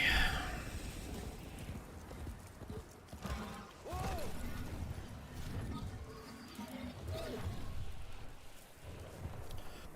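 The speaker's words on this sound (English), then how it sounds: "I'll just ride around on my horse looking for resources" Horse hooves clip-clopping while riding through the Warframe video game world, a steady patter of footfalls mixed with game ambience, mechanical sounds and occasional bird calls, with a voice speaking over parts of it.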